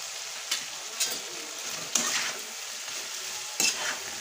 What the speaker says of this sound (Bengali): গুড় দিয়ে নেড়ে চেড়ে নিলাম।